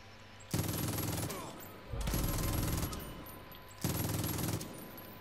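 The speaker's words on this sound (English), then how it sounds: "I'm going closer with my light machine gun" Three long bursts of light machine gun fire in Far Cry 5, loud and close, each lasting under a second with short gaps between.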